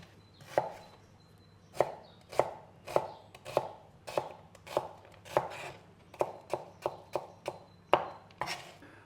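A knife rough-chopping vegetables on a board, around seventeen sharp, close chops in an uneven rhythm that speeds up toward the end, alone in a quiet kitchen.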